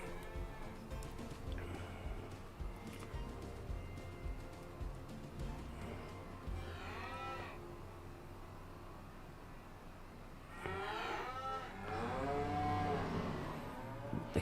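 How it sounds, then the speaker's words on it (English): Cattle lowing in Farming Simulator 25, a farm game, with several drawn-out moos rising near the end over a steady low hum of game ambience and machinery. "The cows and ladies are being noisy, but they got loads of food."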